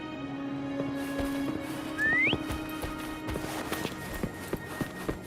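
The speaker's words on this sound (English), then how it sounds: "Why don't you call Foam over? Try whistling." A character in the video game Wuthering Waves gives one short rising whistle to call a creature, set over a steady game music drone with light footsteps and clicks.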